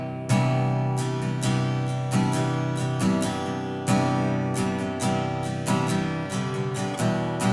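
Strummed acoustic guitar captured through a Neumann KM84 condenser microphone, a steady rhythmic pattern of bright full chords with crisp pick attacks, close and clear, playing alone without any talking.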